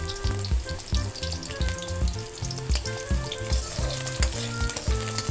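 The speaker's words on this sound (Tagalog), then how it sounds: "Nilagay na rin po natin ang ating bawang. Yan, pa-brown-brownin lang po natin ng konti." Garlic browning in hot oil in a pan for menudo, a steady close sizzle and crackle that stays loud and continuous throughout, with no talk.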